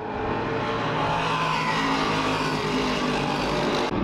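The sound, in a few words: race cars cornering on a racetrack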